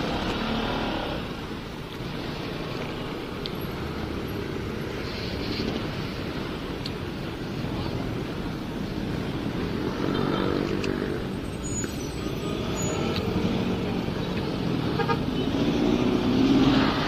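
Road traffic at Circle C, with car engines rumbling steadily alongside wind and a car horn sounding briefly, mostly without voices.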